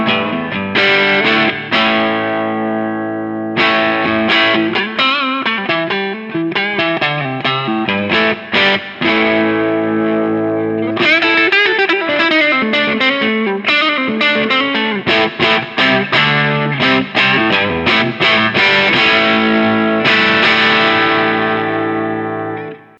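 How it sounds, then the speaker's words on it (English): Overdriven electric guitar through a Kernom Ridge overdrive pedal at moderate gain, loud chords and riffs in choppy bursts with short pauses, a gritty saturated tone ringing throughout, no voices. "this is where we start to get into like our tube screamer type sounds"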